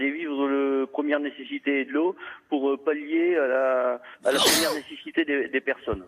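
A single sharp sneeze breaks in briefly between stretches of someone speaking French on a radio-style broadcast, close and loud against his steady talk.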